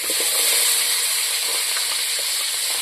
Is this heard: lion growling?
no